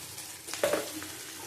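Papaya and potato curry with turmeric frying in a pan, a soft hiss with a brief louder sizzle at the middle, faint and close.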